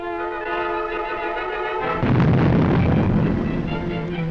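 A gun barrel packed with explosives and an electrically detonated fuse is blown up in a slit trench for disposal, heard as a single sudden rumbling blast that cuts in midway over steady background hum and lingers.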